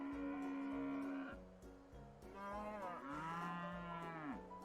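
Cows moo repeatedly in a video game, several long lowing calls one after another, close and clear with no talking over them.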